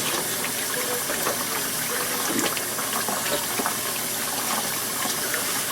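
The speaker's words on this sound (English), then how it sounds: "I'll wash my hands with these Lysols and I'll come back and tell you how it works" Hands washed under a running tap with Lysol wipes, a steady close rush of water splashing continuously throughout with no talking.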